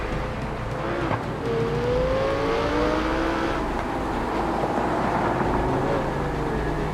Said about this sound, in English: They were revving their cars and everything petrol heads do.